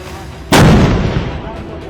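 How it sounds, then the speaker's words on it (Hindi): A Bofors towed artillery gun fires a single loud, close blast with a sharp onset, then a long rumbling decay that fills the rest of the moment. "ये देखिए, ये बोफोर्स गन है।"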